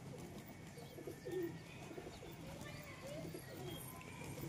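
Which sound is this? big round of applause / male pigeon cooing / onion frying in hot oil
male pigeon cooing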